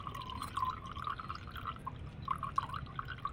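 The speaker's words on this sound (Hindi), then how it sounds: "इस तरह से इसको छन्नी से छान रहे हैं।" Homemade pesticide of bitter gourd, turmeric and ash being strained through a sieve, with a steady trickling and dripping of liquid close by and no voices.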